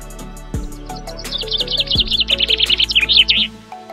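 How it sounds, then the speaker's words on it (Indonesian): Birds chirp and trill busily inside the giant walk-in aviary at Suraloka Zoo in Kaliurang, Yogyakarta: close, bright, overlapping calls that build into a rapid, continuous twittering run, with no talking. "Teman-teman bisa bebas mendengar meriah suara burungnya."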